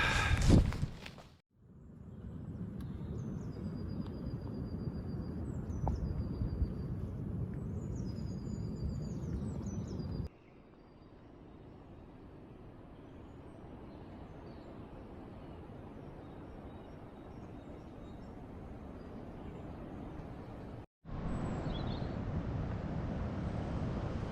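Steady wind roars and rushes at night for a long stretch, dropping to a softer hiss midway before surging loud again, with faint bird chirps high above.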